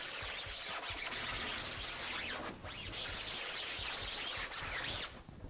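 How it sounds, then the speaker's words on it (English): Scrub brush working emulsion remover into a screen printing screen, a continuous close rasping scrub with rhythmic back-and-forth strokes, fairly loud and steady with no talk. "we'll take our scrub brush and make sure our scrub brush has some emulsion remover in it. And then we'll scrub it in"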